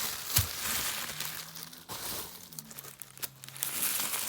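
Crinkling and tearing of a black plastic parcel being unwrapped by hand, a sharp rip near the start followed by steady close rustling and crumpling, quiet and without speech.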